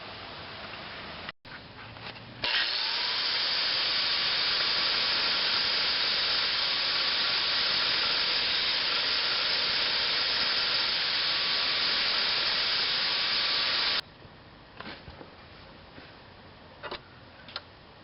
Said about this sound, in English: we're going to have to grind off these original factory fittings on here